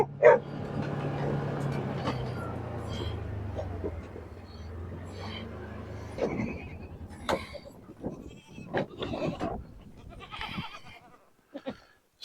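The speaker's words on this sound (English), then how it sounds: "So that's why he's barking." A farm dog barks in short sharp bursts after an early stretch of steady low noise, with goat bleats also audible around the barking; the barks come irregularly and moderately close.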